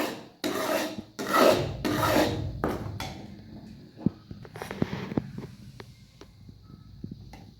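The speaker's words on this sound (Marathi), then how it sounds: "आता आपण हा गुळ आपल्या तिळामध्ये ओतून घेऊया." Melted jaggery syrup poured over sesame seeds in a pan for laddoos, with a few loud rasping scrapes at first, then scattered lighter clicks and scraping as the mixture settles.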